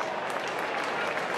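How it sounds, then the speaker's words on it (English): Home crowd at a Scorchers Big Bash cricket match applauding a bowler's spell, a steady wash of clapping from a large stadium crowd sustained throughout, with no voices standing out. "And the crowd are appreciating, even though it's a home crowd for the Scorchers"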